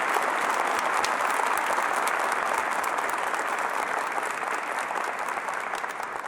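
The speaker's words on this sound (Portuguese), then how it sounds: "Aplaude mais uma vez." Church congregation applauding during a sermon, a full, constant roar of many hands clapping at close range, steady and unbroken from start to finish.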